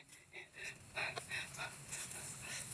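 Heavy, rapid panting and gasping breaths from a person who has just hiked up to a summit, close and fairly quiet, in repeated bursts over a soft outdoor background.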